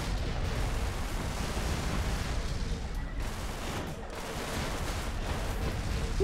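Explosions in the space-combat game Everspace roll on in a dense, continuous barrage of booming blasts and crackling bursts, loud and sustained throughout with no pauses.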